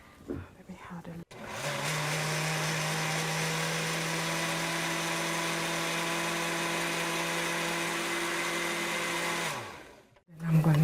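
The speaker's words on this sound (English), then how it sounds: "And I'm going to blend it. Onions." A kitchen blender whirs through onions in one steady, loud, high-pitched run of about eight seconds, starting abruptly after a few light knocks and winding down at the end.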